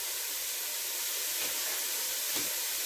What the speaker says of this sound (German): Die müssen jetzt richtig schön anbraten, dass sie Farbe bekommen.